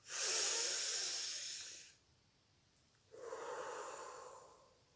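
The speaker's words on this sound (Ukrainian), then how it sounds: "Носиком зробимо вдох, а ротиком видих." A child breathes in audibly through the nose in a long airy hiss, pauses briefly, then exhales through the mouth in a softer, steady rush of air, both close and clear during a preschool exercise session.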